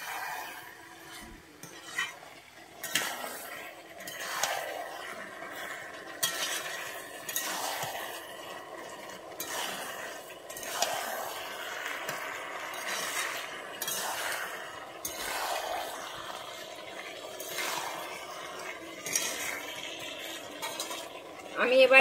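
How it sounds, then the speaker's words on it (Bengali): Capsicum sautéed in a pan: a spatula scrapes and stirs in repeated strokes every second or two, with faint sizzling underneath and an occasional clink of metal, fairly quiet and close. "আমি ক্যাপসিকামটা দিয়ে আবারও ভালোভাবে কষিয়ে নেব।"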